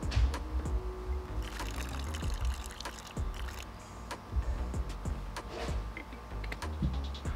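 Brake fluid poured into the brake reservoir of a Maserati during a fluid flush, a thin liquid trickle with small clinks and knocks from handling the bottle and reservoir, close and moderately quiet.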